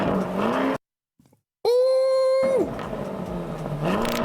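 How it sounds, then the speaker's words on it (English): Lamborghini Urus engine and exhaust revving loudly up close, a hard rising rev held briefly then dropping back into a rumbling idle, following a short silent gap. "You got to hear this engine and this exhaust"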